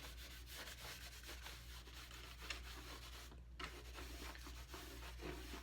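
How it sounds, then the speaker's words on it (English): Howard Feed and Wax is rubbed by hand onto a wooden dulcimer, giving a soft, continuous scrubbing and rubbing sound close up, faint and steady with small irregular strokes. "get yourself a big glob of the Howard Feed and Wax on there, and then just rub it on the instrument"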